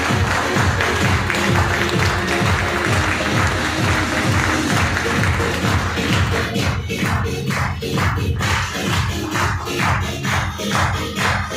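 At a Safe Shop training session, an audience claps to welcome a speaker onto the stage. Rhythmic background music plays throughout, and scattered claps grow into sharper, denser applause in the second half.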